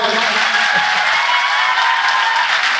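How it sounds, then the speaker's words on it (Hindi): An audience at a stage programme claps loudly and steadily, a sustained wash of applause with faint cheering mixed in. "अगर अच्छा लगा हो तो जोरदार तालियां हो जाएं भाई।"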